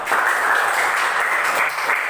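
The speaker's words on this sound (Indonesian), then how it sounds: "Jadi kita berikan aplaus untuk kita semua, tepuk tangan semuanya." Steady applause from a group of schoolchildren in a classroom, dense clapping that fills the whole moment without pause.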